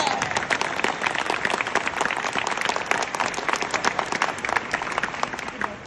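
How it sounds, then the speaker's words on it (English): An audience bursts into dense, sustained applause at an award ceremony honoring people from Venezuela, the clapping steady and full throughout and easing slightly near the end. "And a round of applause to these people from Venezuela."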